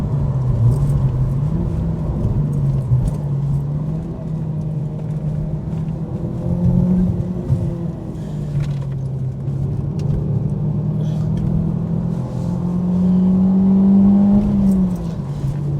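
A 2002 Ford Focus Mk1 ST is driven through an S-bend, heard from inside the car. Its engine drones steadily, rising and falling with throttle changes, with a low rumble underneath and no talking.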